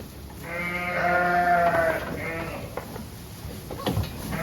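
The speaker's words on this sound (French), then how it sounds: "Oh purée, les agneaux sortent là." Sheep and lambs bleat repeatedly inside a sheepfold on a farm at Montrodat, several overlapping cries close by and loud, with people talking in the background.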